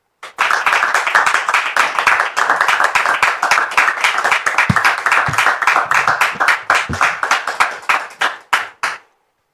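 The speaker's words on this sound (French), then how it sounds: "je voudrais qu'on reçoive encore sous vos applaudissements Dame Prisca" An audience applauds a guest, Dame Prisca, with loud, close clapping whose individual claps stand out sharply, holding strong before thinning into a few scattered claps and stopping.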